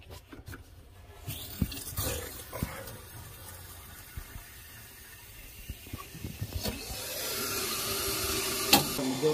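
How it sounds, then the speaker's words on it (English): Water rushes into a hot water tank booster system after the supply is turned back on: a soft, steady hiss with scattered clicks and knocks that swells louder and fuller toward the end. "Turn the water onto the tank now."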